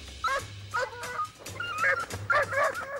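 A dog whimpers and yips close by in a string of short, high, whining cries with brief pauses over a low background hum; no one speaks.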